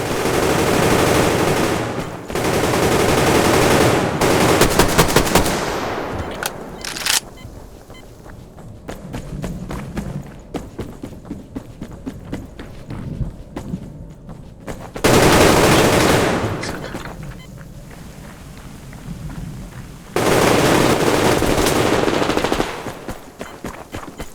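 Machine gun fire in the online shooter Survarium, loud sustained bursts separated by quieter stretches of scattered shots, movement and faint game noise.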